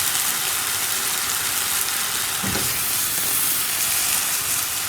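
Mushrooms cooking in a pan, giving a steady, even sizzle and hiss that holds at a constant level throughout, with one faint thud partway through.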